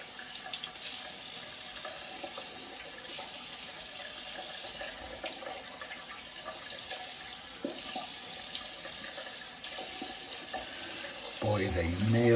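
Water from a tap runs steadily while shaving lather is rinsed off, a constant moderate rush with a brief clatter near the end.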